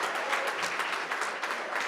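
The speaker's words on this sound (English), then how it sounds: "Let's give these guys a round of applause." Sustained applause from the audience at an HBCU All-Stars awards celebration, a thick wash of many hands clapping at a fairly constant level.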